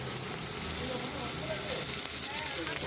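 Steady, dense sizzling of chicken curry in a pan as tomatoes go in, a continuous crackling hiss with no clear breaks.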